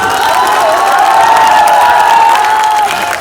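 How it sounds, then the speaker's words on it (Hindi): Rally crowd in Bihar cheering and shouting in a loud, continuous roar, with voices blending into a sustained wall of sound and clapping mixed in. "अब जेकरा जेकरा ही बुझाई ताली बजा सकेला"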